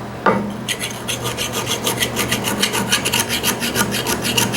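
Metal file rasping a burr off a Japanese chisel, a steady run of rhythmic back-and-forth strokes close up, loud and continuous after a brief start, with no talking.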